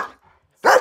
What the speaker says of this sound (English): That's kind of a happy bark.